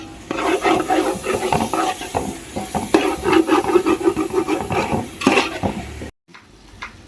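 Tomatoes being sautéed down into a dry, pickle-like biryani masala paste, with a steady scraping and stirring of a spatula in the pan and soft sizzling throughout, ending abruptly in near silence.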